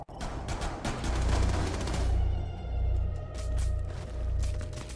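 Rapid automatic gunfire in the video game Rainbow Six Siege crackles in dense continuous bursts over a deep, rolling low rumble, loud and close.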